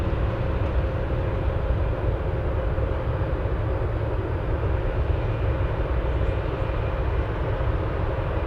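A Boeing 747 Dreamlifter at Anchorage airport makes a loud, steady broadband engine roar that stays constant and close throughout, with no talking.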